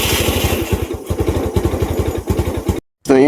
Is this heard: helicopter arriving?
no